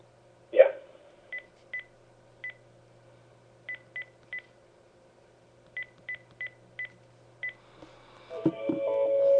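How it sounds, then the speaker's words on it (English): A single phone-handling clatter, then about a dozen short DTMF keypad tones spaced irregularly as a police department number is dialed, followed by a ringing line tone rising at the end. "I'm going to dial the police department's number right now."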